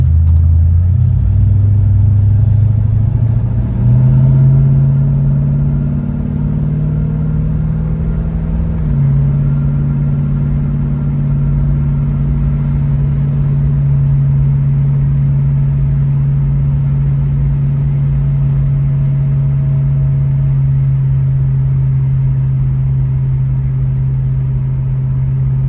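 A 1966 Ford Mustang Fastback drives steadily, its engine rumbling close and loud, the pitch climbing and dropping at each gear change before settling into a sustained cruising drone, with no talking.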